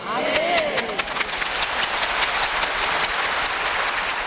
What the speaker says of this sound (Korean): 지금은 여러분 박수를 치지만